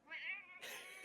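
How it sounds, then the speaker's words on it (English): A big domestic cat meows twice up close, a rising drawn-out call followed by a brighter second cry, clear against a quiet room. "My cat just broke his way in."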